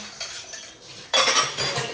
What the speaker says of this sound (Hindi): देखो बर्तन भी मांजती हूँ।